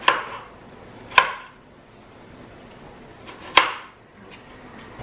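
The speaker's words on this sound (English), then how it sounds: "I'm just going to cut up some tomatoes" Knife chopping tomatoes on a board, with two sharp, distinct chops a couple of seconds apart, close and clear over a quiet kitchen background.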